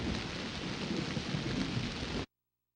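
Dense rain with rumbling thunder from the Philips CD-i game Zombie Dinos from Planet Zeltoid, a constant loud wash of noise that cuts off abruptly.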